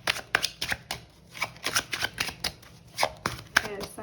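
Tarot cards being shuffled and drawn during a reading, giving crisp, close riffles and snapping flicks of card stock in irregular clusters, fairly loud and with no clear talk.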